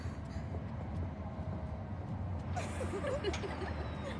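A passenger train moving along the track, heard from inside as a continuous low rumble with faint rattles and a few sharp squeals toward the end.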